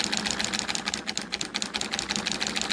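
A homemade solenoid motor with a flywheel runs at a steady pace, making a fast, even stream of mechanical clicks and buzzes. It is close, fairly loud and continuous, with no talking.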